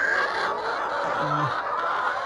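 A chicken clucks briefly and nearby in a laying house on an African farm over a steady background hum, a couple of short low calls in the middle.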